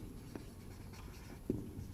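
Chalk or marker writing on a classroom board during a maths lesson: a few quiet strokes and a sharper tap, close and alone with no talk.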